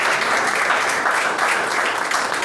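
Church congregation breaking into applause, a full, steady roar of many hands clapping at close range that continues evenly throughout.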